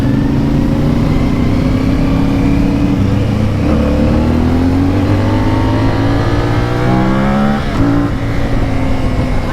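A CF Moto 450 Ibex motorcycle engine revs loudly and continuously up close, its pitch climbing and falling through repeated throttle sweeps with a brief sharp burst near the end.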